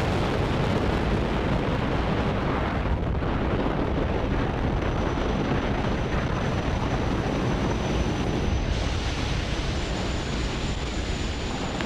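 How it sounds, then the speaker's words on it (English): A SpaceX Falcon 9 lifts off from Launch Complex 39A with a continuous, heavy broadband roar and crackle, dense low rumble filling the whole stretch at a constant level, heard from a distance through wind buffeting on the microphone. "ignition, and lift off of Falcon 9"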